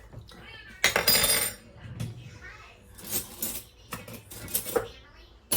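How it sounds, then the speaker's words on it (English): Metal cutlery clatters in short bursts as a spoon is pulled from a kitchen drawer, with a cat meowing and people talking around it. "Let me get a spoon out of here."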